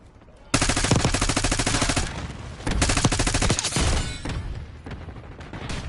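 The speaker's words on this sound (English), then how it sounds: "Enemy sniper shooting." Rapid automatic gunfire from the shooter game Rainbow Six Siege rattles out in loud, sustained bursts, with a pause midway before firing resumes, then tapers off.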